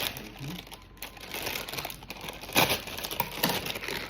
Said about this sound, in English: you're going to want to use some scissors to cut it so it doesn't go everywhere